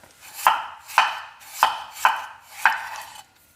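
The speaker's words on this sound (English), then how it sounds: "Here I have right around a pound of rinsed gold or yellow potatoes, and I'm going to thinly slice them." Knife thinly slicing rinsed gold potatoes on a cutting board, five evenly spaced crisp chops, each with a short crunch, close and clear with no voice.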